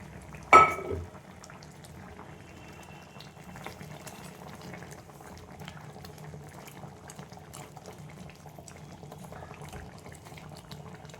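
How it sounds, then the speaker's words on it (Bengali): Spicy Bengali bata fish curry bubbles steadily in a pot, a low continuous simmer heard up close after a brief splash-like burst at the start. "দেখো ঝোলটা ফুটে উঠেছে, মাছগুলো আমি দিয়ে দিলাম।"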